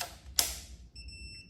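An unprogrammed Fardriver ND72300B controller on a Qronge X1 Spark electric scooter gives a short, steady electronic beep tone in the second half, preceded by a brief click or rustle, fairly quiet against low background hum.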